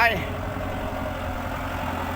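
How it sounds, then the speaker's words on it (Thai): A tractor engine idles with a steady low rumble throughout, close by. "ตอนนี้พ่อใหญ่ตั้มครับ ขึ้นรถไถแล้วครับ"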